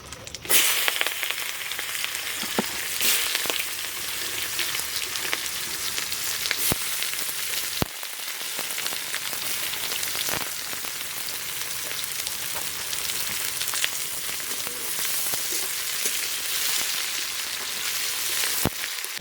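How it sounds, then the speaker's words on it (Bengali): Chopped onions dropped into hot oil with cumin, dried chilies and bay leaves for a duck curry, giving a loud, steady sizzle and crackle that runs throughout, close up, with occasional sharper pops and no talking. "এবার আমি পেঁয়াজ কুচিগুলো দিয়ে দেবো।"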